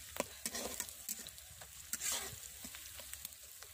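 Browned onions and kasuri methi fry gently in a pot for chicken biryani, giving a faint, close crackle with scattered light clinks and scrapes of a stirring spoon.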